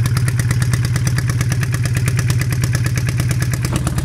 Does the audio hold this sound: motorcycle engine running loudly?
yes